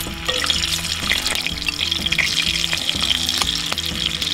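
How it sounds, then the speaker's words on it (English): Shrimp frying in bacon grease in a pan, a steady dense sizzle with faint crackles throughout and a low background hum with a repeating tonal pattern, close and fairly loud. "I think it's time to take our shrimp, lay them in here, the bacon grease."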